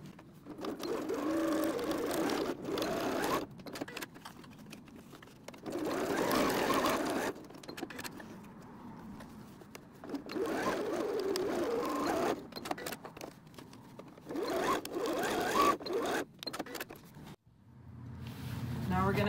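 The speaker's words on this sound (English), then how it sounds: "Now we'll sew across those lines that we made." Sewing machine stitching through a cork pencil case, running in steady bursts of a few seconds each with short pauses between, loud and close.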